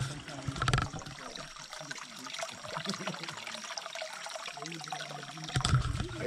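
Fresh creek water runs through a small setup on a dense mountainside in Madagascar's Antsiranana Province, a steady close trickle and splash with a couple of louder bursts.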